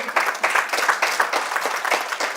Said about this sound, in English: Guys, continue clapping